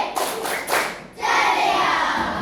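A group of schoolchildren claps together in a few bursts, first in short separate rounds and then in a sustained, busy patter of many hands close by.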